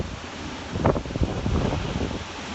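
Ocean waves break on the shore during Hurricane Maria under heavy wind buffeting the microphone, with a few louder gusty surges rising over the constant roar.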